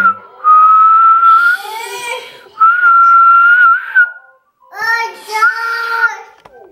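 Someone whistles clear, sustained notes close by at the Jacksonville Fair in three phrases with short pauses between them, the pitch wavering and gliding a little.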